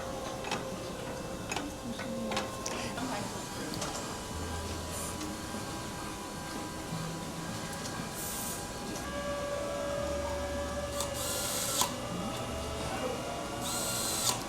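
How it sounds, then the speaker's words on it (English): Tuning machine bushings are pressed into a Martin guitar headstock in a busy guitar factory, with intermittent clicks, ticks and mechanical whirs over steady workshop hum and machinery. "He's going to press the bushings in."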